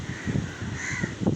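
Crows caw in a short burst at Negombo beach, Sri Lanka, a couple of harsh calls close by over steady wind and sea noise.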